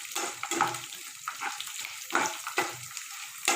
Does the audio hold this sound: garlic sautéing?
yes